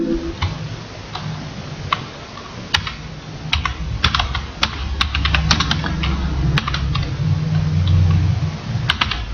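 Keys clatter on a computer keyboard as a company name is typed into Tally Prime accounting software, a steady run of close, crisp clicks over a low background hum.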